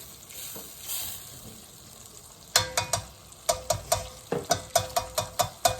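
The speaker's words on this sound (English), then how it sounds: "Nice little simmer." A pan of chicken broth sizzles and bubbles steadily at a simmer, with a run of sharp, regular clicks and taps partway through, close by with no talking.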